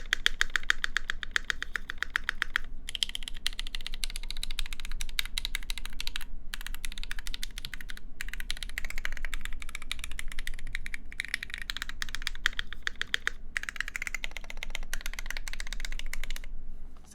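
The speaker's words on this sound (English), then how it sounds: "That's a very solid spacebar sound." Mechanical keyboard typing, a Canoe board with Zeal Zephyr switches, with spacebar presses among quick, steady keystrokes that stay close and clear throughout, no voices.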